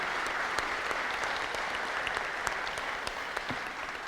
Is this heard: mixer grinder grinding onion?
no